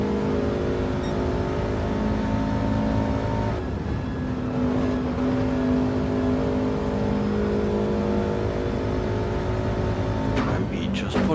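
Race cars in an EVO vs WRX league round at Suzuka, engines droning and revving loudly through a chicane, with a commentator speaking over the steady motor noise.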